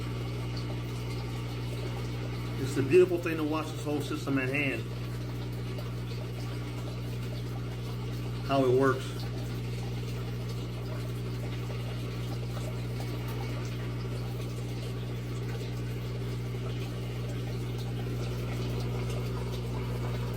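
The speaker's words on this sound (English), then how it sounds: "It's thumping hard now." Aquaponics sump pump in a 50-gallon stock tank, solar-powered, running with a steady low hum and water flow throughout, a couple of brief bumps and short bursts of talk over it.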